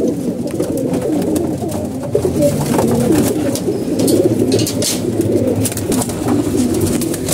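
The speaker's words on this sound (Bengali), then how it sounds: "এখানে মাঝে যে কবুতরগুলো দেখতে পাচ্ছেন খাবার শেষ হয়ে গেছে" Pigeons coo steadily and continuously from close by while feeding on wheat and maize grain, a dense layered chorus of overlapping calls with faint fluttering and pecking beneath.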